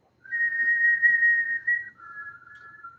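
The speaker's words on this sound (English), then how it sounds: "You hear a faint whistle." A single faint whistle, a thin sustained tone held for about a second and a half, then sliding slightly lower and fading, alone against near silence.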